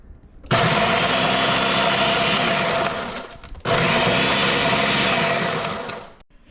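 A Ninja blender grinds dried meat for pemmican in two loud, steady whirring bursts of about three seconds each, separated by a brief pause.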